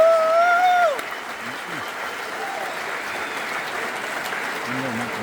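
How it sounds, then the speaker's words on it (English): Steady applause from an audience at a St. Joseph College of Maine commencement ceremony for the Class of 2025. It follows a brief tonal sound and continues as a dense, sustained wash of clapping for several seconds. "Please join me in giving them a rousing round of applause for all the work they've done to get ready for today."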